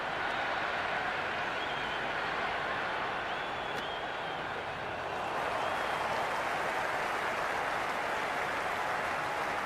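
Steady broadband crowd noise with applause and cheering fills the stands at a cricket video game match between India and England, continuous and loud throughout with a slight swell in the second half.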